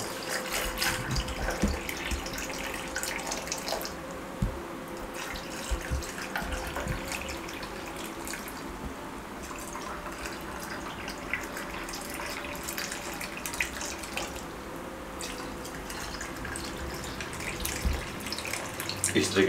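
Cold water streams into rose syrup for a homemade red sharbat, a steady running pour with splashing and occasional clinks over nearly twenty seconds, while a person talks intermittently.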